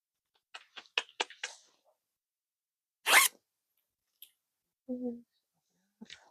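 Someone handles a purse zipper while crocheting, with a quick run of short zips followed by one longer, louder pull and a few faint clicks, heard up close in a quiet room with a brief voiced sound near the end.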